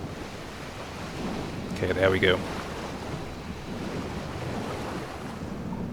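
Ocean waves wash around a diving U-boat in the submarine game Silent Hunter 3, a steady windy surge with a brief louder splash midway. Someone briefly speaks over it.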